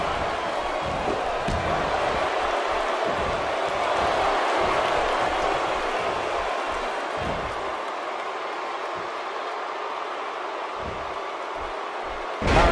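A large video game wrestling crowd roars and cheers continuously, a dense wash of noise with scattered thumps and claps throughout, in WWE 2K17.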